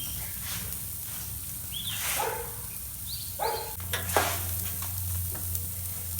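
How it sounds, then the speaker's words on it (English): Ribeye steaks sear on a Ñuke Delta grill with a steady crackling sizzle. A few faint squeaks and clinks sound over it, and a low hum comes in partway through. "Getting a good strong sear."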